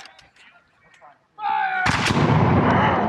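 A musket volley at a Revolutionary War reenactment in Camden bursts out loud and close after quieter shouting, the crack merging into a sustained broad roar with rolling echo.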